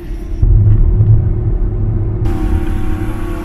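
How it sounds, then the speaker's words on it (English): Trucks pass along a twisty road in Jamaica, a loud, close, deep rumble of heavy engines that holds steady and shifts as a vehicle goes by, with no talk. "The trucks are passing."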